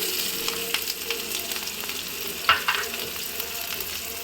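Chilli and onion hit hot oil for a boiled egg dry roast, producing a close, continuous sizzling crackle with a brief sharper spatter midway.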